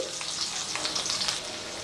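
Chopped ginger and garlic frying in hot oil in a pan, a loud, dense, close-up sizzle that hisses on without break for a moment, with no voices.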